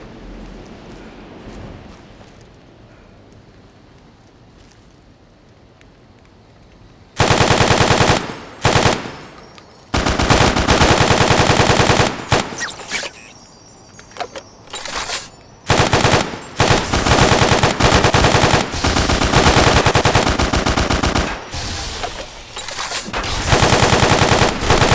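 Gunfire from a weapon in Fallout New Vegas, long loud automatic bursts and rapid shot strings after several quiet seconds, broken by short pauses, close and harsh with no talking.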